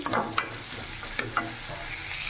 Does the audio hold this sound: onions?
yes